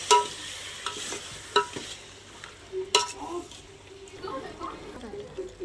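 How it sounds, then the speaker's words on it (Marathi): Mutton being stirred into frying masala in a pan on a wood-fired stove: close scraping and clattering spoon strokes over a soft sizzle, with a few sharp knocks on the pan. "त्याच्यानंतर आपण मटण मिक्स करूया।"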